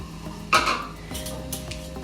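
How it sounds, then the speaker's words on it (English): A spoon scrapes and knocks around a bowl while butter is creamed into caster sugar for fork biscuits, with one sharp clink followed by softer stirring scrapes, close and fairly quiet. "that's simply stirring the two together, pushing the butter into the sugar and going round and round until the butter gets completely mixed in"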